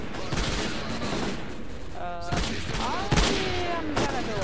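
Gunfire crackles in the video game Lost Alpha, with a burst of sharp shots in a forest setting among rattling game noise, while someone talks over it.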